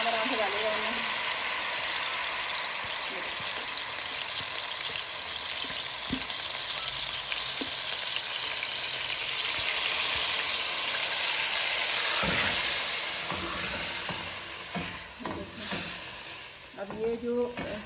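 Marinated chicken tikka pieces frying in hot oil in a pan give a loud, steady sizzle throughout, with brief stirring clatters near the end.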